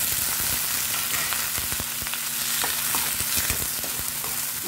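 Tomatoes and onion sauté in a pan for ginisang ampalaya, making a close, steady sizzle with repeated scraping and stirring knocks.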